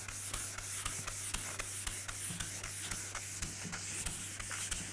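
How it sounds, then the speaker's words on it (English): Wet sanding of classic car paint by hand, a steady rhythmic scrubbing of wet paper over the panel, close and even, with regular strokes repeating for the whole stretch and no talking. "I'm also watching where I'm sanding so that I can know if I've gone a bit too far."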